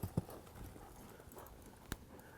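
A cutting horse mare backs up in an arena, her hooves giving a few soft, scattered thuds and one sharper clop, faint and close against a quiet background.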